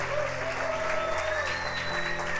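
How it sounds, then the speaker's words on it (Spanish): A church congregation claps steadily and loudly throughout, the dense applause layered over sustained musical tones. "dale el mejor aplauso a Jesús."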